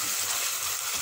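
Kefta with tomato sizzling and frying in a pan, a steady close hiss of oil and food cooking on its own without talk.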